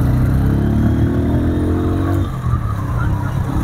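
A Bajaj Pulsar N150 motorcycle is ridden along a road with many speed breakers, its engine droning steadily at close range before dipping and settling into a rougher idle-like rumble.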